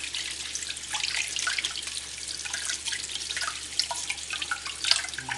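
Cleaned razor clams rinsed under a running kitchen tap, a steady faint hiss of water with small splashes and drips, close and alone.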